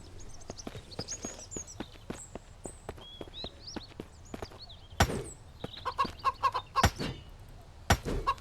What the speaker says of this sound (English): These freaking chickens, man. Shut up. Driving me nuts.